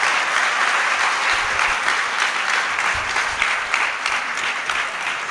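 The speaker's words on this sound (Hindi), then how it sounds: "तो एक बार उनके लिए जोरदार तालियां बजाएं।" Sustained applause from a hall audience at a cow-welfare (Panchgavya) convention in Dwarka, steady dense clapping throughout, loud and close, with no talking over it.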